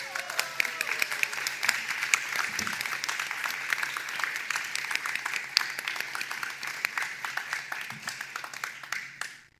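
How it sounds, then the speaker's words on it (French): Applause from a live audience at a French true-crime talk show, dense steady clapping that carries on for nearly ten seconds at moderate level before cutting off at the end. "On applaudit Catherine!"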